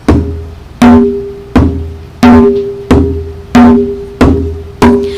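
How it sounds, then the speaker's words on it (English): Eight evenly spaced drum strikes ring out alone, each sharp hit followed by a resonant decaying tone, mixing deeper and higher strokes. "I brought one of my drums to show you."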